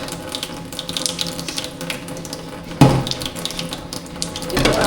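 Water running from a faucet in a pantry, a continuous hissing splash with a sudden louder gush midway, close and steady.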